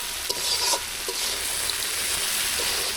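Masala spice paste sizzles steadily in hot oil for a sarpunti fish curry, with a few louder stirring scrapes and bursts of crackle over a constant frying hiss, close and alone.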